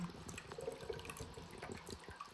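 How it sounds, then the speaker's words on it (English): Hands rubbed together under a running kitchen tap, a faint steady splash of water with soft rubbing and dribbling, no talking. "Then I will rub the fingers against their palms within the water"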